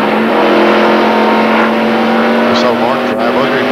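NASCAR stock cars race in the 1993 Slick 50 300 in New England, Mark Martin passing Jeff Gordon on the inside, with a loud, steady engine roar and droning tones throughout, a commentator talking over it.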